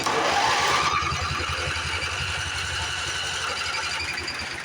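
A neglected 1980s Craftsman GT lawn tractor engine cranks and catches, then runs with a steady, rough low throb close by, no talking over it.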